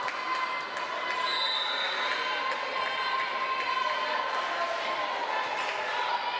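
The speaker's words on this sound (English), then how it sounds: "You can hear the crowd rooting for these players." Crowd noise fills a college volleyball gym during a McLennan Community College match at Ranger College, a steady wash of rooting and cheering from the stands with bouncing and court sounds throughout, holding at an even, busy level.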